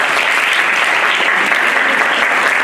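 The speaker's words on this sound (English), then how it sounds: "everybody please clap for them" An audience claps for contestants, a loud, dense burst of applause that fills the whole short stretch without letup.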